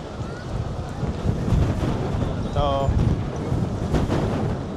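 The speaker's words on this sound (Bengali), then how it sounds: "অনেক বাতাস ভাই, অনেক বাতাস" Strong wind roars and buffets the microphone at Kobutar Chattar, the pigeon square in Makkah, a loud, continuous rumble with a voice speaking briefly over it.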